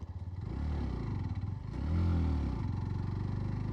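Hero Glamour X 125 motorcycle climbing a hill in fifth gear, its steady engine drone rising in pitch as it accelerates, heard close and continuous with no talking.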